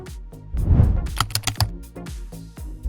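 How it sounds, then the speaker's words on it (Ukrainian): Keys clack on a compact Hator gaming keyboard in quick, irregular bursts of crisp clicks, close and fairly loud, with no talking. "Найбільший кайф від геймерського девайсу, коли він перевершує очікування. Саме така клавіатура Хатор."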